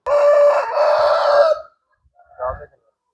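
A fighting-cock breed rooster crows once, loud and close, in a long wavering call lasting about a second and a half, followed by a short softer cluck.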